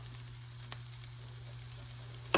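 Tortillas toast in olive oil in a pan with a steady, soft sizzle and a faint background hum, ending with a brief louder crackle.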